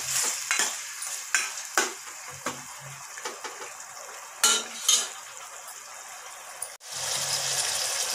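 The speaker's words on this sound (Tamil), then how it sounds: "இதை நம்ம ஆயிலில் வந்துட்டு ஒரு 5 நிமிஷம் நல்லா வதங்க விடலாம்." Mutton sautés in hot oil in a pan for a green masala curry, with a steady sizzle broken by repeated scrapes and clinks of a spoon stirring, close by.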